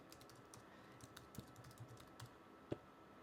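Quiet, steady tapping of keys on a computer keyboard as a web link is entered, with irregular soft clicks and a few sharper keystrokes, no talking.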